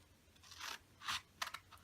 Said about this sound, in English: And then I'm going to take the scissors and cut there.